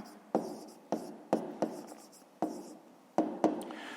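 Pen or pencil tapping and scratching on paper while writing numbers by hand for a fifth-grade maths exercise, in seven short strokes spaced irregularly, close and quiet, with no talk.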